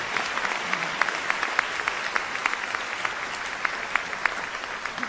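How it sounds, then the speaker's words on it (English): A commencement crowd applauds the parents in attendance, a steady wash of many hands clapping with scattered sharper claps standing out, continuous and fairly loud for the whole stretch. "let's all give a rousing applause to the real heroes of this day,"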